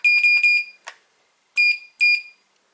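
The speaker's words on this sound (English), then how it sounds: "you press the button, it beeps and lights up" Loud, sharp electronic beeps from an OTIS Gen2 elevator direction indicator button: a quick run of pulses, a click, then two separate beeps with short silences between them, close and with no talking.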